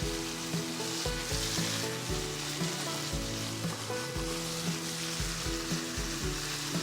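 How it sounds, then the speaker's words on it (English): Rabbit meat for a stew sizzles and fries in a hot pot, a steady hiss that runs throughout under louder, prominent background music. "I'm going to go ahead and put that rabbit meat in"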